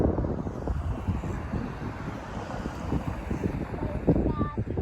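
Wind blows at Lulusar lake, buffeting the microphone in uneven gusts with a low rumbling roar that swells near the end.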